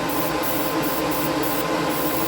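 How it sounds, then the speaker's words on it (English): An airbrush sprays Outlaw paint heavily onto a chassis, giving a steady, close, broad hiss with a slight pulsing flutter that runs without a break. "Got it spraying a little bit heavier this time."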